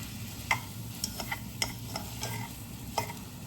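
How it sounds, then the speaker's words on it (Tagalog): Instant Shin Ramyun noodles tossed with a little sesame oil are stirred in a pan, giving repeated light scraping clicks and soft sizzling, close and steady with no talk. "lalagyan ko siya ng konting sesame oil. And then mix all together lang guys"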